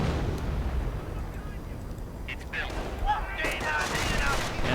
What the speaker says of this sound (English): Oh, artillery got something.